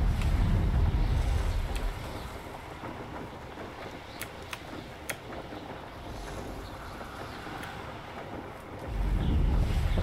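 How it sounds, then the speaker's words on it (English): Steady wind rushes while flying through the highlands in a video game, a loud low roar that swells at the start and end and eases in the middle, with no talking. "Oh my god, it's so windy."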